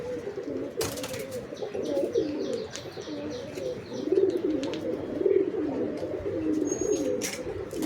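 Giribaz and Teddy pigeons, including a female, coo in a steady rolling rhythm of repeated low throaty phrases, fairly close, with a few faint chirps and rustles behind.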